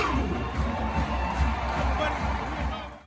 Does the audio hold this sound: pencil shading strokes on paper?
no